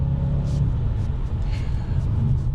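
A 15-year-old Audi S5 engine idles with a steady low rumble, heavy and continuous close to the car, with faint brief hisses above it and no talk over the sound.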